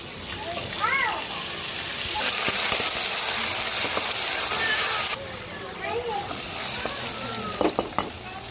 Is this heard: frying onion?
yes